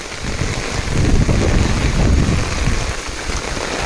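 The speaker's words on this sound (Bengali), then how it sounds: "বৃষ্টি হচ্ছে দেখুন কি পরিমাণ বৃষ্টি হচ্ছে চারিপাশে" Dense, steady rain noise, broad and hissing with some wind rumble, filling the whole stretch without voices.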